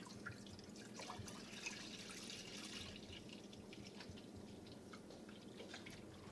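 Milk trickles and splashes softly as it is poured into a pot to make homemade mascarpone; a quiet, steady liquid stream that runs without a break, with no one speaking.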